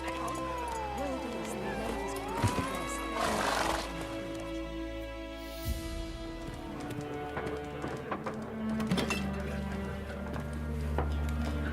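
Geralt's horse Roach in The Witcher 3, with hooves clip-clopping and a couple of whinnies rising over game music and ambient sound throughout.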